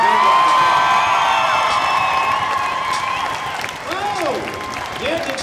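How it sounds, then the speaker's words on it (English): Audience applause with cheering and whoops at a Battle of the Badges boxing event, a dense, loud clapping wash that fades somewhat toward the end, with crowd voices and shouts rising over it. "I think that deserves one round of applause."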